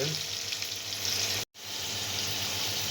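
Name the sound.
onions, green chillies and ginger frying in a pan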